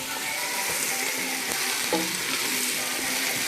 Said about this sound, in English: We only fry the onion and garlic and give it that flavor.